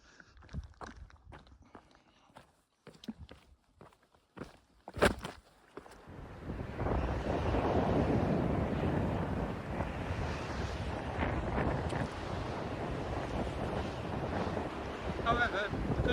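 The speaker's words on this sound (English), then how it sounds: "Hopefully get out of the wind and out of the mist." Strong wind buffets the microphone on a misty Cumbrian mountain path, a steady loud roar taking over after some scattered footsteps and clicks at the start.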